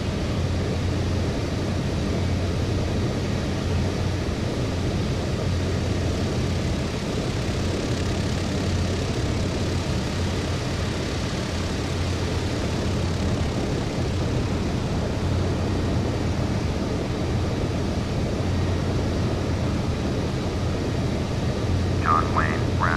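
Boeing 737-800 jet engines running in a flight simulator, a steady broadband whine and rumble holding at even loudness throughout with no talk.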